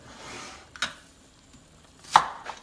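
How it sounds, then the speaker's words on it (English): A knife chopping an onion into big pieces on a cutting board, a few separate sharp chops with gaps of quiet between them. "I'm gonna go ahead and cut my onion up"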